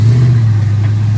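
Cammed LS V8 engine idling, a steady, loud, low rumble heard close up with no talking over it.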